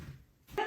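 A small dog named Macy lets out one short, sharp bark indoors at the very end, close by, after a moment of quiet room noise.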